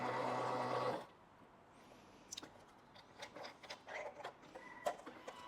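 A Thermomix fitted with a WunderCentix slicer crinkle-cuts potatoes in reverse at speed 3, a loud, steady motor whir with a grinding rasp that stops abruptly after about a second, followed by faint scattered clicks and knocks.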